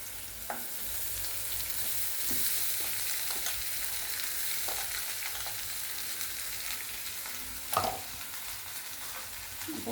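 Minced soybean frying in an oiled pan, a steady close sizzle with intermittent scrapes and taps of a spatula stirring, no voices.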